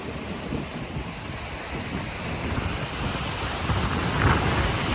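Steady roar of ocean surf at Dream Beach, Nusa Lembongan, Bali, with waves washing in, buffeted by wind noise on the microphone, swelling a little louder toward the end.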